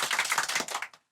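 Clapping from a school annual function audience watching a skit, a short, dense round of many hands that stops abruptly within a second.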